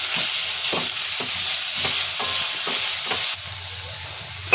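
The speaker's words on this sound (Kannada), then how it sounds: "ಈರುಳ್ಳಿನ ಆ್ಯಡ್ ಮಾಡಿಕೊಂಡು ಅದು ಬಣ್ಣ ಚೇಂಜ್ ಆಗೋವರೆಗೂ ಫ್ರೈ ಮಾಡಬೇಕು." Chopped onion frying in a pan for capsicum egg bhurji gives a steady, bright sizzle, with a spatula scraping and stirring at a regular beat. The sound is close, constant and carries no speech.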